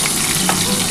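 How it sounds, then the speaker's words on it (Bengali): Rohu fish pieces frying in hot oil, a steady close sizzle with broad hiss that runs unbroken through the short moment, no voices over it. "আমি কিন্তু 4 পিস মাছ প্রথমে ভেজে নিচ্ছি"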